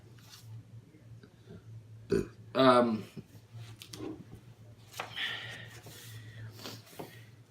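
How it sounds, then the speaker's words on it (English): A single burp from someone whose mouth is burning after eating something spicy, one short throaty rasp near the mic, followed by quieter movement and background noise over a steady low hum. "I feel like I got a burp."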